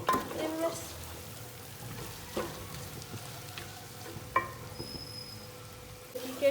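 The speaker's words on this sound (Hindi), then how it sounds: "अभी इसकी अच्छी तरह इसमें मैं बुनाई करूँगी" Chicken haleem mixture sautéing in a pot, a low quiet sizzle with occasional spoon scrapes and taps against the metal, close by with no talk.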